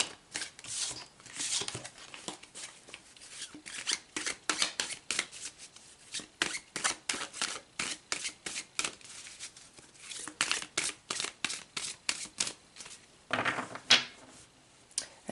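Tarot cards are shuffled by hand close to the mic, giving steady repeated riffling and snapping bursts with brief pauses and one louder flurry near the end.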